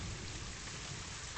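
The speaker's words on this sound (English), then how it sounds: "a rainy day in Asia" Steady rain falls in the zoo-building video game Planet Zoo, a faint, even hiss of rainfall with one brief soft thump near the end.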